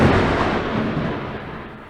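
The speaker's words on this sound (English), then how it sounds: "it's raining like crazy. It's thundering." Thunder during heavy rain, a loud broad rolling rumble that fills the whole moment and slowly fades, with no talk.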